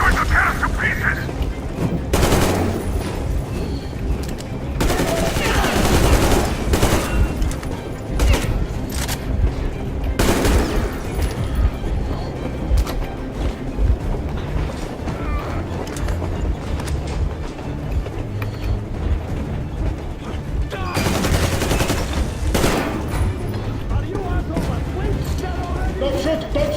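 Heavy video game battle in Metro Exodus, with repeated gunfire bursts and booming explosions spread over the whole stretch, loud and dense, mixed with shouting voices and a constant rumbling background.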